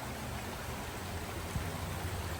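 Wolf Creek in Vogel State Park, Georgia, flows with a constant soft rush and trickle, a steady wash of water noise at low-moderate level with no talking.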